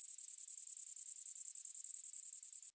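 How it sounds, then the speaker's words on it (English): A grasshopper gives a rapid, steady run of high-pitched chirps, a regular pulsing buzz of about two dozen beats lasting nearly three seconds, close and alone with no other sound. "Grasshopper."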